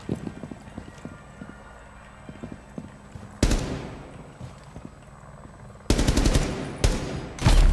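Gunfire in Rainbow Six Siege, loud bursts of automatic shots hitting metal barriers, one burst midway and a rapid cluster of shots near the end after quiet footsteps and movement.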